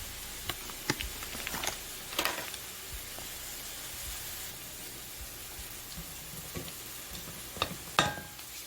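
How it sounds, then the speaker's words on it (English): Cream cheese and cottage cheese are mixed together in a bowl, giving soft, intermittent scraping and stirring strokes with a few sharper taps against the bowl, quiet and close, with no talking. "I'm going to put them in this bowl and mix them well together"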